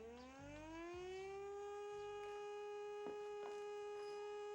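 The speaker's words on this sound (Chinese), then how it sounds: "空袭警报！" An air raid siren winds up and holds a loud, steady wail, with faint thumps and knocks beneath it.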